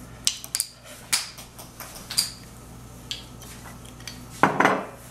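Chicken being mixed in an olive oil marinade in a bowl, with irregular clinks and scrapes of utensil against dish, close and intermittent over a quiet background.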